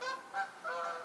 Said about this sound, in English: There was like some Canadian geese that just flew by.